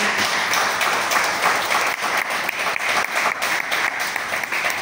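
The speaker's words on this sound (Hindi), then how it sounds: "आइए जोरदार तालियां से उनका स्वागत करें" Sustained applause from a seated audience at a business session in Thailand, welcoming a director onto the stage, steady and dense with many hands clapping throughout.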